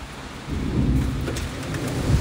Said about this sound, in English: Look at the sideways rain.